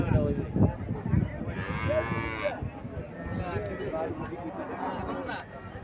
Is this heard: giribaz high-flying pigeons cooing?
no